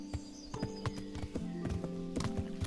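Horse hooves thud in a quick, rhythmic clip-clop in the video game Kingdom Come: Deliverance, with a sharp, fairly close beat throughout and a faint whinny-like tone under it.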